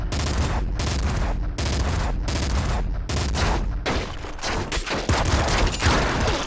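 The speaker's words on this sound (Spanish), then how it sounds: "Rifle de asalto pesado." A heavy assault rifle in the video game Nuclear Throne fires loud, rapid bursts, with short gaps between volleys and a dense clatter of shots continuing to the end.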